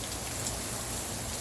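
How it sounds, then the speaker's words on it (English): Steady rain falling during a night wind storm makes a dense, even hiss of drops striking surfaces, heard alone and fairly faint with no voices for a second and a half. "But it's finally starting to rain. It's coming down pretty good or not?"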